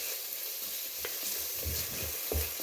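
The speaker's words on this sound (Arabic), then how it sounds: "انا غادي نزيد الطوماطيس ثاني نخليها تتقلى معاهم شويه مليح" Tomatoes sizzle and fry with onions in a pan as a spoon stirs them, giving a steady close hiss broken by a few scraping strokes. No voices are heard.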